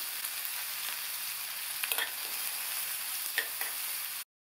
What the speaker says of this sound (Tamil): லைட்டாக வதக்கி விட்டால் போதும்